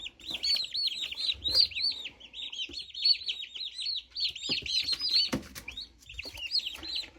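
Young turkey poults just delivered to a brooder chirp continuously, a dense chorus of high peeping calls that runs without a break, with faint knocks and rustles underneath.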